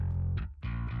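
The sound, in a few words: Fender Jazz bass through Bogren Digital amp knob plugin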